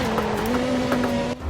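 A 2005 Renault R25 Formula One car with a V10 engine in a racing video game holds a steady high-pitched engine whine at near-constant revs, loud and continuous, dropping away abruptly at the end.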